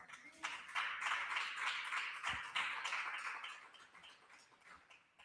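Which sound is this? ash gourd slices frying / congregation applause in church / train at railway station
congregation applause in church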